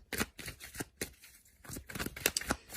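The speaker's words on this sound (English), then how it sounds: "let's give the cards a good shuffle." Tarot cards are shuffled by hand in quick, crisp riffling bursts, close and fairly quiet, with short pauses between the bursts and no talk.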